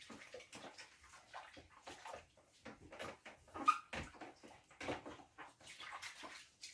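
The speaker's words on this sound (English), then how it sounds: "So this is how we would wash our dishes." Dishes are washed by hand the old-fashioned Jamaican way in a Canadian kitchen: quiet, irregular splashes and sloshes of water with clinks of handling, coming in short bursts close by.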